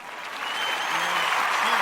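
Crowd applause rises and holds as a dense wash of clapping with some cheering, moderately loud and steady, seemingly heard from a distance.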